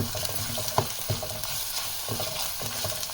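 Onions fry slowly in oil, giving a continuous close sizzle broken by small clicks of stirring.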